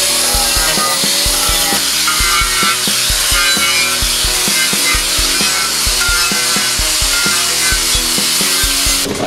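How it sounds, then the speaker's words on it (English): A quick strip abrasive disc on a grinder scuffing texture into sheet metal, a loud steady whirring grind with rhythmic rubbing pulses, close and continuous with no talk. "Let's try this quick strip disc."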